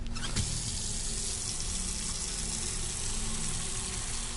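Water pouring steadily into a container in Autopsy Simulator, a constant gushing rush from a tap after a brief clunk at the start, close and loud.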